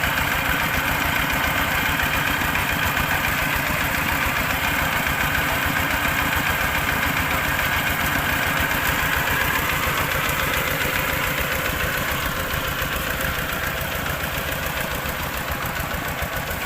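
A Kubota engine drives a water pump for flooding rice fields, running at a steady, continuous idle-like drone with a rough, knocking pulse throughout, close and loud with no voices.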